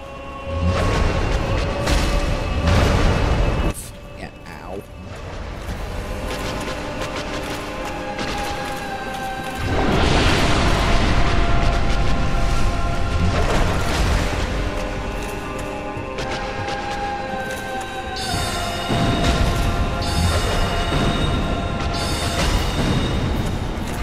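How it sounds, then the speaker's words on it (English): Explosive kaboom attack in the video game Dark Souls, heavy booms and crashing blasts rolling through a long dense stretch of combat noise, loud and close, with no talking. "There was the kaboom attack"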